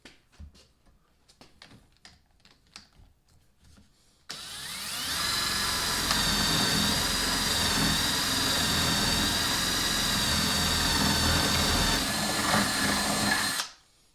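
A Porter Cable 20-volt cordless drill with a 3/8 wood bit whirs up and bores into wood steadily for about nine seconds, loud and close, after a few quiet handling clicks, then cuts off abruptly.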